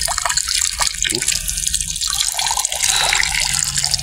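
Fresh prawns being washed under running water at a riverside spot, a steady splashing trickle and drips continuing throughout with faint background noise.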